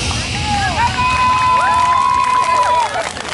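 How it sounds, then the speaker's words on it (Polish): A crowd at a village harvest festival cheers, whoops and claps loudly after a school dance troupe's performance, with children shouting and a bright whistle-like cry rising above the continuous roar. "Wielkie brawa"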